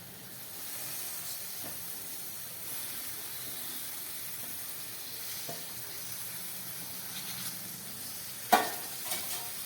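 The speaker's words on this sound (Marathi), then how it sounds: "छानपैकी मिक्स करून घ्यायचं आहे जेणेकरून सर्व मसाले आपल्या व्हेजिटेबल्सला लागतील" A steady frying hiss fills the whole stretch as cauliflower, capsicum, potato and tomato are stirred with spices in a pan. A few faint scrapes come through, with one sharper clack near the end, and no voice is heard.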